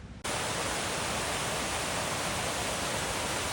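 Clear mountain stream rushing steadily on the lower slopes of Mt Marathon, a loud, dense broadband wash of flowing water that starts abruptly and continues without pause, close by and alone.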